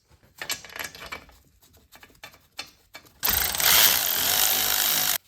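New bolts go into a BMW xDrive front wheel bearing hub, first with scattered clicks and ratcheting taps, then a loud continuous whirring burst from a power tool near the end.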